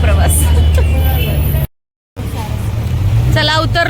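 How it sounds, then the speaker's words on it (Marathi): Inside a moving city bus in Mumbai, a steady engine rumble and road noise run under people talking nearby, with a brief cut to silence partway through. "बसचा प्रवास।"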